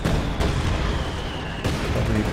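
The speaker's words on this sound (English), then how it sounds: "Throwing a grenade onto the house, and that house is very low." A grenade bursts on a house in Company of Heroes 2, heavy booms and crackling battle noise filling the mix, loud and dense, with two sharp jolts about a second apart.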